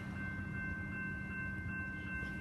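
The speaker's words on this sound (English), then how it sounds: "I know, it sounds like the engine's right there, but it's at the back of the train." The CP Christmas train backs up with its engine at the rear, a faint, steady rumble of rolling railcars and a continuous whining tone, heard from a distance with no talk.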